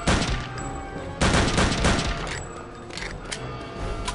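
Gunfire in the video game Return to Castle Wolfenstein comes as loud, close bursts of rapid shots, with a dense volley at the start, another after a short pause, and scattered shots trailing off.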